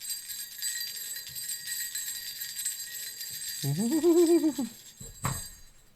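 A short burst of bright, harmonic ringing swells for about a second, followed by a sharp metallic strike, over a hissy high background.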